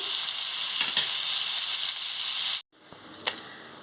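Prawns fry in hot oil with a steady, dense sizzle that cuts off abruptly, then returns as a quieter crackle with a couple of sharper pops, all close by with no talking.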